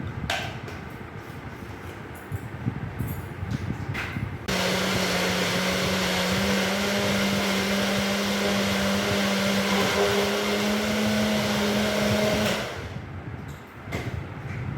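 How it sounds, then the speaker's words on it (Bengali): A kitchen mixer grinder blends mango with roasted cumin, fennel and mango ginger for aam panna, switching on abruptly with a steady, loud whirring hum that runs for about eight seconds before cutting off. "এবার এটা আমি মিক্সিতে ঘুরিয়ে নেবো"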